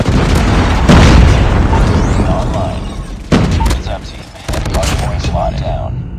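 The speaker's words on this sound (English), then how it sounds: "Predator missile inbound." A predator missile explosion and rattling gunfire in Call of Duty Mobile, with loud booming blasts and bursts of shots layered over a busy match, along with game voice callouts.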